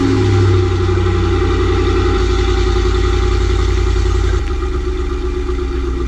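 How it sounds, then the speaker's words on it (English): A 2008 Ford F150 pickup engine turns over and settles into a loud, steady idle close by, with a brief surge near the start and a slight drop in level toward the end. "All right, let's start up the truck."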